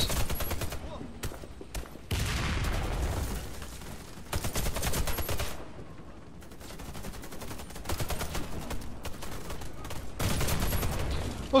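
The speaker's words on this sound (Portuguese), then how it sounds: "tô tomando tiro de vários lados." Loud bursts of gunfire in the video game Warface come in repeated rapid volleys from several directions, separated by brief lulls, with faint voices now and then.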